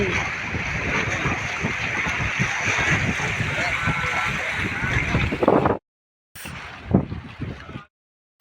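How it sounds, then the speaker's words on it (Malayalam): Strong wind at Malampuzha Dam in Kerala buffets and roars across the microphone, with bursts of gusting noise and a brief drop-out near the end. "നല്ല കാറ്റുണ്ട്"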